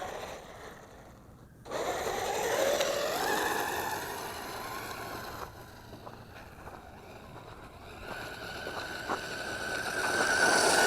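ZD Racing 10421-S B-10E 9102 brushless 1:10 4WD RC car driving outdoors, a steady whirring motor drone that swells loudly, dips, then rises again, with wind rushing across the microphone.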